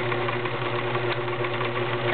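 A 1947 Kenmore convertible free arm sewing machine running a stretch stitch, giving a steady, close humming whir with a soft rhythmic mechanical chatter throughout and no talk.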